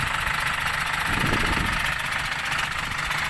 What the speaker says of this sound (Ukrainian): Це компресор качає.